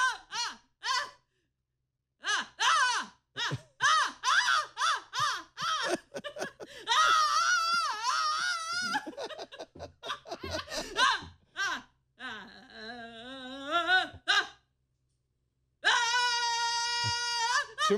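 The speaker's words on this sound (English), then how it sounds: "Endless screaming." A person screams and yells in bursts to steer a voice-controlled endless-mode game at an Apple event, mixed with laughter and excited vocalizing. A sustained tonal scream comes near the end.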